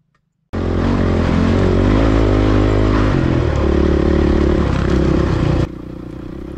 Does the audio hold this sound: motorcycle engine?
yes